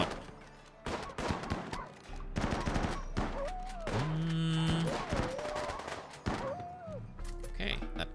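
Shotgun blasts from a Rimworld colony battle against wargs ring out as repeated sharp bursts, with tonal game effects and animal-like calls mixed in over steady background sound.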